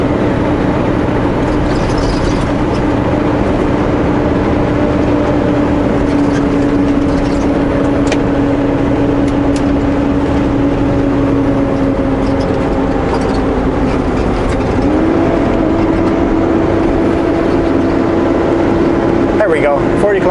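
A truck's turbocharger whines and whistles while driving on a snowy mountain highway, with steady engine and road rumble throughout and a speaking voice over it.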